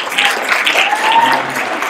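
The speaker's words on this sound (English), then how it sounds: "All right, round of applause." A round of applause at a high school graduation ceremony: a loud, sustained patter of many hands clapping for nearly two seconds, with no speech over it.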